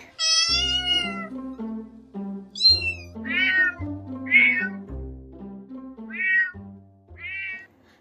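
A cat meows over and over, each meow loud and close, with a steady low musical tone under the calls and no talking.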